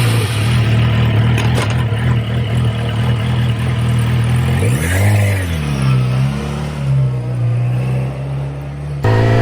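A 2020 Yamaha R6 motorcycle engine drones loudly and steadily while riding, its pitch dipping and rising as the throttle changes midway, with wind noise and no talk.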